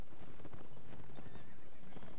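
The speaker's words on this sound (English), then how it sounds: "Yeah, I think my horse is limping." Horse hooves clop in the video game Mount & Blade Warband, a dense run of soft thuds mixed with busy battle noise and a brief whinny-like tone, loud and continuous.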